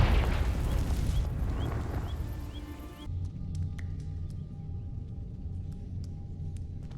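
A Confringo fire spell in Hogwarts Legacy bursts against dry vines, a loud rumbling blast and roar that cuts off abruptly into a quieter low crackling burn with small pops.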